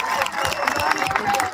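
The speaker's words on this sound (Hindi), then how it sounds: "एक बार आपके ऑर्गेनाइजिंग कमेटी के लिए ताली मार दो यार" Audience at a college stand-up comedy show clapping for the organizing committee, a steady, dense round of applause from a crowd filling the brief stretch, with some cheering mixed in.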